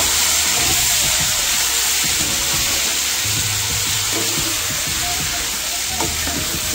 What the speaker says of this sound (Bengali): এবার আমি চিকেনটা অ্যাড করে দেব। চিকেনটা এবার আমি নাড়তে থাকবো।